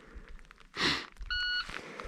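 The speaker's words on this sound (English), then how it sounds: "starting on beep" A shot timer gives a single short electronic start beep at a firing range with a Glock 48, preceded by a louder rushing noise and surrounded by quiet background.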